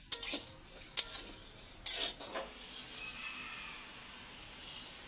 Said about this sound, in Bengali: মুগ ডালটা হচ্ছে আগে থেকে একটু ভেজে নেবো সুন্দর করে লাল লাল করে